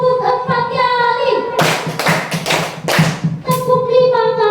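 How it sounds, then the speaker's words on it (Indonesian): A group of schoolchildren claps four times in unison, crisp and loud, with a teacher's voice calling out before the claps and resuming right after. "tepuk 4 kali"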